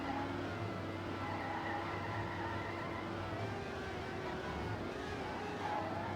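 Car drifting in Trackmania in a NASCAR/FunSpeed 1v1 match: a steady, droning engine tone with a continuous tire hiss, at an even level throughout and fairly quiet.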